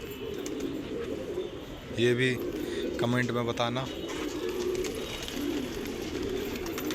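Pigeons coo softly several times in short rolling calls amid a steady outdoor background hum, while someone speaks nearby.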